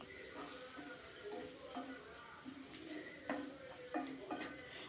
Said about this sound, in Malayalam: ഒരു ടേബിൾ സ്പൂൺ മല്ലിപ്പൊടി ഇതൊക്കെ ഇട്ടിട്ട് ഒന്ന് വഴറ്റുക